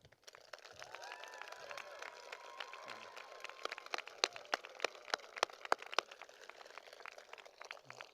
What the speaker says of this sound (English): a big Montana Western round of applause